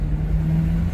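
A 1975 Pontiac Grand LeMans accelerating, a steady close engine rumble with a low, even drone through one brief moment.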